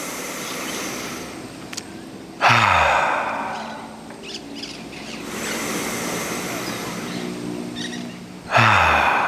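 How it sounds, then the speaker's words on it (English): Slow, deep belly breathing close to the microphone: a long inhale, a sustained exhale like a soft rush of air, then another deep inhale starting, calm and unhurried with no talking. "Breathe with me."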